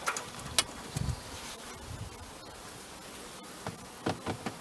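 Honeybees hum at an opened hive during a beekeeping check, a faint, steady buzz near the microphone, broken by a few soft knocks and handling sounds, with no talking.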